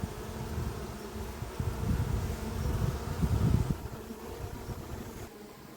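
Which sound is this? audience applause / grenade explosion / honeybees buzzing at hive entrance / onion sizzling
honeybees buzzing at hive entrance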